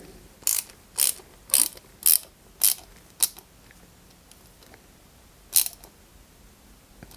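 Several sharp ratcheting clicks ring out in a quick, evenly spaced series, then one more after a pause, close and crisp, as a small CP screw is driven into a 1/6-scale Citroën DS 19 model kit. No one talks.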